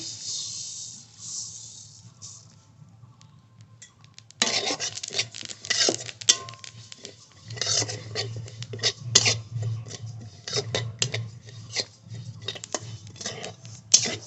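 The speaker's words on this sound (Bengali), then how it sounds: "কড়াই গরম হয়ে গেছে তিল ভেজে নেবো আগে" Hulled white sesame seeds dry-roast in a hot wok with a soft hiss and crackle, then scraping spatula strokes and ticking pops come and go close by.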